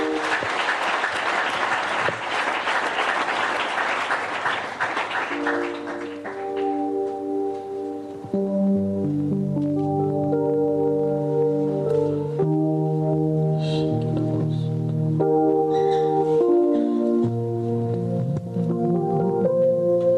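A church congregation bursts into loud, dense applause and acclaim for the Lord for several seconds, then the clapping fades as sustained keyboard chords and organ-like music take over.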